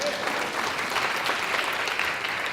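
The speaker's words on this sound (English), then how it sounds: "Let's give a round of applause for California weather." Fall convocation audience giving a round of applause, dense and even clapping from a large crowd throughout, close and loud, with no speech on top.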